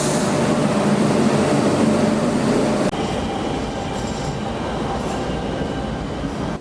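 A Barcelona Metro train running, a loud continuous rumble of wheels and carriage noise with a faint squeal, steady throughout, recorded from inside or close by.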